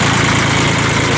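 A 1986 Ford 1910 tractor with a gear transmission idles steadily, a loud, low, even diesel-style engine rumble with a regular pulsing beat and no talk.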